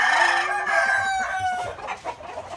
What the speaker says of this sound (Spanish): Pues ahí los dejo con esa pequeña vista de los gallos.